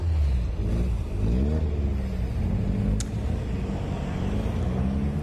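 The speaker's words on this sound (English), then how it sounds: "The cars now leaving the holding area." Caterham race cars pull away from the holding area at Snetterton circuit, a steady low engine rumble with rising revs that stays fairly constant and moderately distant, with one brief sharp click partway through.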